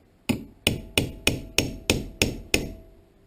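Eight sharp, evenly spaced metal hammer blows ring out on a punch while a Dodge Ram power seat is being repaired, close and loud with short decays.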